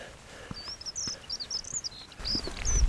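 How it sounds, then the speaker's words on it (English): Birds chirp and twitter in high, quick bursts throughout, fairly faint over low outdoor rumble in the Pyrenees mountains between Orisson and Roncesvalles, with a louder thump of movement near the end. "I always like to listen to the birds."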